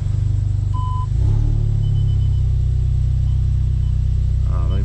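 A modified Audi S3 engine drones low and loud from inside the cabin while driving, a steady throbbing rumble that swells slightly as the car pulls, with a brief beep early on.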